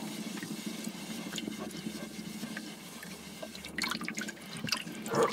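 A kitchen tap runs steadily into water while salt is being dissolved, a close, continuous trickle with drips and splashes that grow busier toward the end, no talking.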